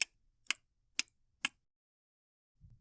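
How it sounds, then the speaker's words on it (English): A clock ticks loudly indoors in a quiet house, four sharp, evenly spaced ticks about half a second apart, followed by silence and a soft low thump at the end. "The clock in Bear's house ticked loudly."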